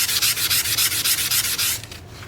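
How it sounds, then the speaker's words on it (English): Rhythmic scratching of 400 grit sandpaper rubbed back and forth over a sample surface, close and steady with even strokes, then tapering off near the end. "So this is 400 grit sandpaper. You want the surface to be really smooth."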